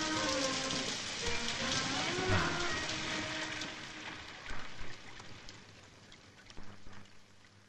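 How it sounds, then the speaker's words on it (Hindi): Heavy rain pours down steadily in a village, a dense, continuous hiss close by, with a few sharper splashes toward the end. "क्या ये बारिश रुकती ही नहीं?"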